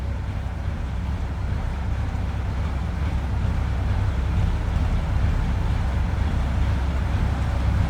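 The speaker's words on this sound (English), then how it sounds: "A little rumble coming out of that flathead V8." A 1951 Ford F1 panel truck's flathead V8 idles with a steady, deep low rumble, close and continuous, with no voices over it.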